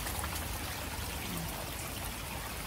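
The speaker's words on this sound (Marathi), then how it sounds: "आता सकाळ झाली आणि पाऊस लय पडतय." Heavy morning rain in a village, a dense, continuous hiss of pouring water with no pauses, close and fairly loud, and no voices.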